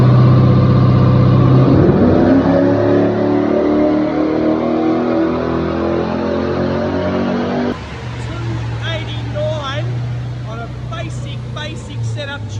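Holden VY SS with an LS1 V8 on a dyno, idling and revving hard in a long sustained pull, then dropping to a loud rumbling idle, with a voice talking over the engine noise near the end.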